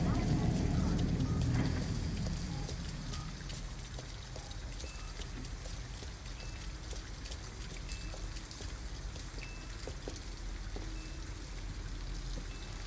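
Rain falls in the video game Detroit: Become Human, a steady patter and hiss with scattered drip ticks, louder at first and then settling into an even background wash.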